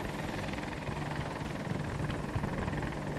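Helicopter rotor and engine drone in Battlefield 2042, a steady broadband roar held at constant loudness for the whole stretch with a faint low throb.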